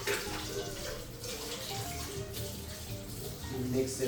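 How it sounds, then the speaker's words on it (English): Liquid poured all at once into a cooking bowl, a continuous splashing gush that stays fairly loud and steady throughout, swelling slightly at the end. "So I'll pour it all in one dish,"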